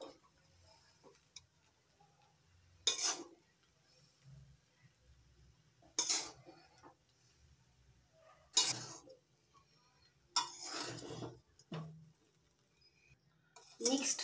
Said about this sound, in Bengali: ভালো করে মিশিয়ে নিলেই তৈরি হয়ে যাবে মিক্সড ফ্রাইড রাইস